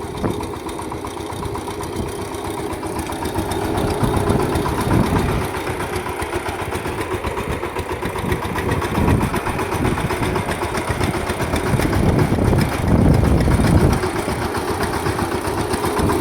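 A power tiller's engine chugs steadily while ploughing a field, a loud, close, rough mid-pitched running note that swells and eases slightly over time, with no one talking.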